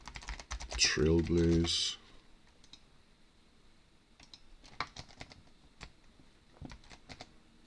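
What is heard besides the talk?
computer keyboard typing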